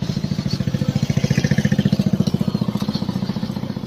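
A motorcycle engine idles and putters steadily, close by, in an even rapid thumping rhythm on the way into a parcel office, with no voices.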